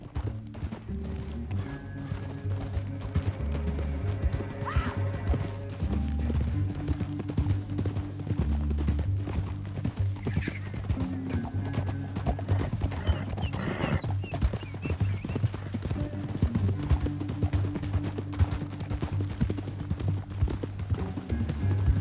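Steady clip-clop of galloping horse hooves in Red Dead Redemption 2 runs continuously over a loud, dense bed of orchestral music, with an occasional faint whinny.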